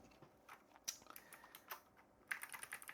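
A computer keyboard tapped in short bursts of quick keystrokes while entering a search term, faint and close, with pauses between the bursts and no voices.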